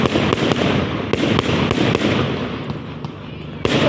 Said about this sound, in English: So I just refer those as sparklers.